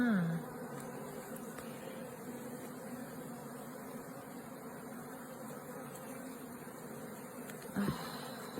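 Honeybees hum steadily around an open hive, a dense, continuous buzz close by with individual bees passing near, and a brief louder sound near the end.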